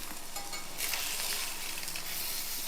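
Eggs dusted with pepper powder fry in a pan and get flipped to the other side, a close steady sizzle that surges louder at the turn and keeps crackling.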